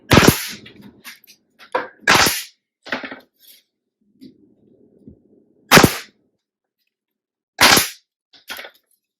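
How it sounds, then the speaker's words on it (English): A wooden frame is stapled together, sharp sudden snaps of a staple gun firing about six times at irregular intervals, loud and close, with soft handling noises of the wood between shots. "so now we're ready to staple."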